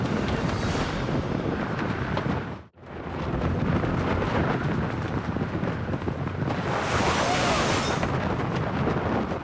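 A storm lashes a tent on a volcano, with loud, sustained roaring gusts that batter the fabric continuously and ease only for a brief moment before surging back.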